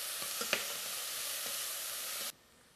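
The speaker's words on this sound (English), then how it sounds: "I just want to cook this onion down just enough so it starts getting clear." Onion sautéing in a pan gives a steady, close broadband sizzle with a few soft stirring clicks, then cuts off abruptly near the end.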